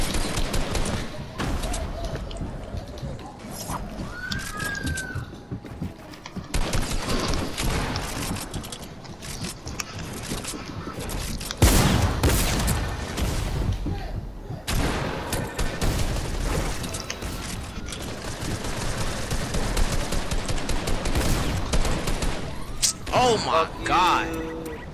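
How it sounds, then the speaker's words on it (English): Fortnite battle gunfire, dense rattling shots and booms stretching through the clip with brief lulls, loud and close, with game effects and a voice talking over parts of it. "I'm already getting shot at."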